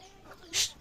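A single short, bright cluck from a chicken, close and fairly quiet, over faint background noise.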